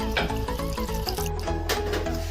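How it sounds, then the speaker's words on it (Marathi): Water is poured into a pressure cooker over mutton with Agri masala, salt and turmeric, giving a steady, close gurgling pour that runs unbroken for a couple of seconds. "यात थोडंसं पाणी घालायचं आहे."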